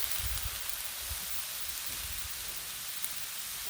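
Cheese steak meat sizzles on a hot griddle in a steady, dense hiss with faint low thumps underneath and no voices.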